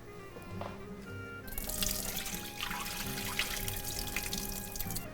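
Water from chickpeas soaked overnight is drained off, a steady rushing splash of liquid that starts suddenly and keeps running close by, alone and loud, with no voices over it.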